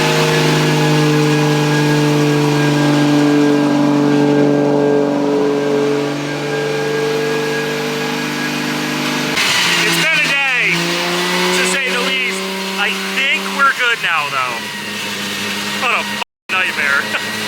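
A Toyota JZX revs and drones steadily for several seconds, then the engine note climbs and falls in sharp revving sweeps, with voices talking over it near the end.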